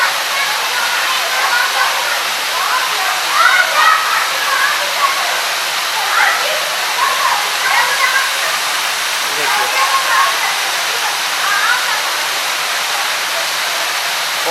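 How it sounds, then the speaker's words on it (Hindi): Steady broadband rush of an artificial waterfall at a fish aquarium with goldfish tanks, continuous and fairly loud throughout, with faint voices underneath. "और ये देखिए जो झरना का आवाज़ है वो कितना सुंदर सा आवाज़ निकल रहा है इस झरने में से।"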